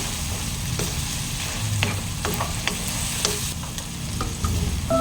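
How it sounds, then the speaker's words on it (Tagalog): Corned beef sautéing in a pan with a constant close sizzle, light scrapes and taps of a spatula scattered through, steady and fairly loud, no voices. "So, gisa-gisa lang natin."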